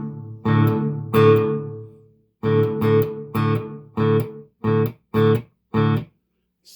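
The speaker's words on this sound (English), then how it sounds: "So there's the first reverb, which is the large room." Electric guitar through a Fender Super Champ X2 tube amp with large room reverb, played as a series of about eight separate strummed chords that each ring briefly into a short reverb tail, near and fairly loud with no talking.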